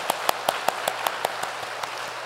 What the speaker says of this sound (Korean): 우리를 보호해 주시는 좋으신 하나님 아버지께 먼저 감사의 박수를 올려드릴까요?